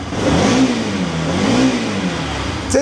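A Bajaj Pulsar RS 200 motorcycle engine revs up and eases back twice in a wavering rise and fall, close and loud, with no talking over it.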